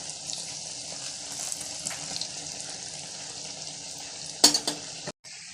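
Biulir dal pakoras frying in oil, a soft steady sizzle under faint clatter, with a louder burst of crackling near the end before a sudden brief drop to quiet.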